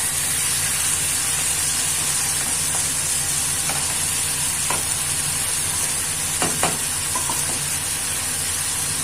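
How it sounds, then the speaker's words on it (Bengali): Fried mourola fish stirred gently through a potato curry in a pan, with a steady close sizzle and hiss running throughout and a few soft spatula scrapes and taps scattered over it, no talking. "এবার একটু হালকা হাতে নাড়াবো"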